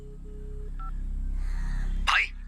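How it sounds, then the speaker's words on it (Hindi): Electronic telephone tones signal an incoming call in a Hindi-dubbed action thriller film: a low steady beep, then a short higher two-tone blip, over a dim room hum that ends in a brief bright rasp. "तू फोन रख, दूसरा फोन आ रहा है"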